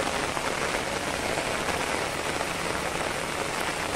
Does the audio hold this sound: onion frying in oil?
no